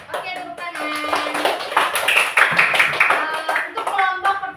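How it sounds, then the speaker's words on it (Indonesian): Primary school pupils in an Indonesian classroom clap their hands together in a steady round of applause, mixed with voices talking and calling out over it. "Oke, tepuk tangan."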